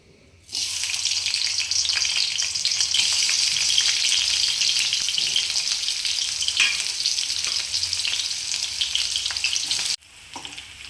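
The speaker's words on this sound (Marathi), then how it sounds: "त्यानंतर हा उभा चिरलेला कांदा घालून घेणार आहे तेलात." Sliced onion hits hot oil in a pan for mutton curry, bursting into a loud, steady sizzle that holds evenly for several seconds before cutting off abruptly near the end.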